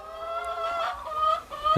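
Egg-laying chickens cluck softly nearby in a few short, wavering calls, faint and alone without talk.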